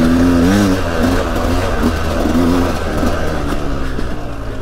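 A Sherco SE-R 300 off-road motorcycle engine revs loud and close, its pitch rising and falling in short bursts, with a steady growl underneath.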